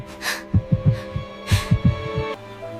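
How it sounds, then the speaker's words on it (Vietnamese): In an animated Grimm fairy tale, a pounding heartbeat effect thumps in two quick bursts of double beats over a low sustained hum, close and prominent with no speech. "Cơn hoảng hốt ấy làm cho tim cô cứ đập thình thịch."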